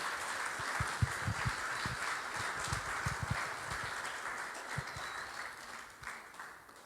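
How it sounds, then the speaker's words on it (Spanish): A church congregation applauds, a steady wash of clapping from many hands at moderate distance, lasting several seconds and tapering at the end. "denle un aplauso al Señor"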